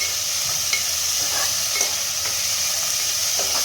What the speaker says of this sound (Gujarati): આપણા બધા જ શાક જો અહીં મસ્ત રીતે સંતળાઈ ગયા છે